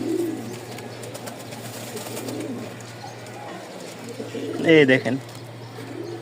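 Giribaz pigeons coo in a breeding loft, soft throaty calls over a steady low hum, with one louder burst of cooing near the end. Someone speaks briefly in the background.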